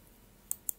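A computer mouse clicking on a convoy in a Mediterranean 1940–1942 strategy war game: two crisp, close clicks about a fifth of a second apart against a quiet room background.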